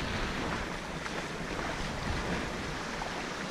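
A sailboat under sail on the open sea crossing from Corsica to Elba, with continuous wind buffeting the microphone and a steady wash of waves against the hull, loud and unbroken with no voices.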